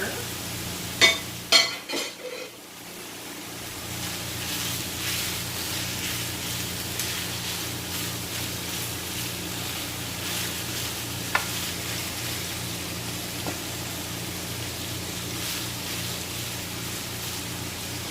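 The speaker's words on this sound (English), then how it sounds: "Give those a good stir." Pork and vegetables frying in a pan for a luau bowl give a steady hiss, with a few stirring clatters at the start and an occasional utensil tap later.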